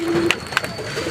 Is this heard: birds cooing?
yes